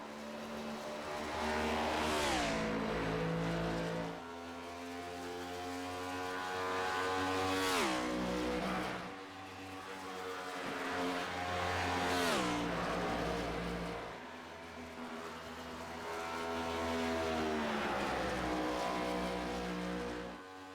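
A stock car engine on a qualifying lap in the HTL Cup Series Southern 500 roars past again and again, each pass rising in a loud whine and then dropping away, with a sustained engine drone between passes.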